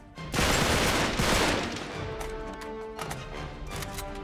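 AK rifle fire in Uncharted 3: Drake's Deception, a loud close burst of rapid shots that rings on amid game music and scattered further cracks.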